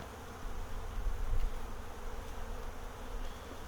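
Wasp buzzing inside an open beehive during queen rearing work, a faint continuous drone close by with a slight swell in the middle, no talking.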